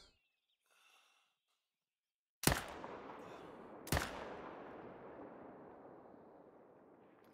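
Two loud, sharp rifle shots about a second and a half apart in a hunting game set in autumn New England mountains, each followed by a long rolling echo that fades slowly, with faint rustling before the first shot.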